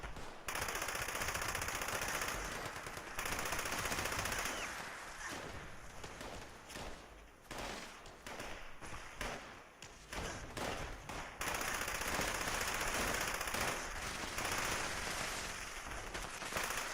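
Rapid automatic gunfire rattles in Fallout 76, loud sustained bursts broken by short pauses and scattered single shots, with the shooting dominating throughout.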